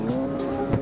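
Racing cars in the mobile game CarX Street pull away at the start of a race, including a Toyota Supra GR, giving a brief steady engine drone with a short squeal-like burst near the end.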